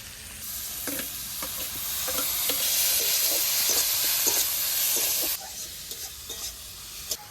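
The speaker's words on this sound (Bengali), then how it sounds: "টমেটো কুচিগুলো দিয়ে দেবো।" Chopped tomatoes hit a hot pan already holding chopped onion for a red bhetki fish dish, sizzling steadily with a bright hiss while a utensil scrapes and stirs in regular strokes, quieting toward the end.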